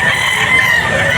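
A gamefowl rooster crows at a farm auction market in the Philippines, one short, close, loud call against a light background murmur.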